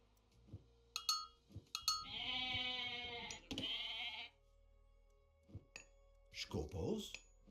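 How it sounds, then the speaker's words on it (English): A sheep in the video game Age of Mythology gives a long wavering bleat, loud and close, among a few short clinking game interface sounds and other faint effects. "Oh, sheep."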